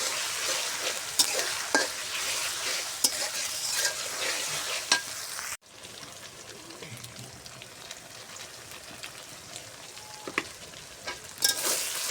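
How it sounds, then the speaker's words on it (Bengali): Spices with ginger and garlic sizzle steadily in a pan for a beef and new potato curry, with frequent scraping stir strokes; a brief dropout midway, then the frying continues more quietly. "দেখেন আমি মশলাটা সুন্দর করে ভাজা ভাজা করে নিচ্ছি।"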